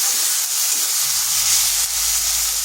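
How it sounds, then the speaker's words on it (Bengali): Onion paste hits hot oil in a pan while an egg curry is being cooked, giving a loud, continuous, bright sizzling hiss that stays steady throughout with no talking. "এই যে পেঁয়াজ দিলাম তাতে তেল ছিটাবে।"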